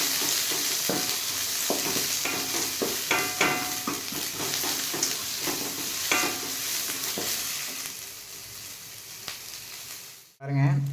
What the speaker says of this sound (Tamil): இந்த வெங்காயம் நல்லா வணங்கணும், பொன்னிறமாக வணங்கணும்